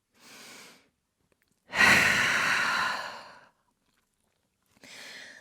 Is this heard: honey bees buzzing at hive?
no